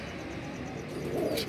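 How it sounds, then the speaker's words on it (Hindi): A teddy pigeon coos softly in a loft beside its mate, a faint, brief, low murmuring call over light background hiss. "ये है जी टैडी कबूतर और ये इसकी फ़ीमेल आ गई"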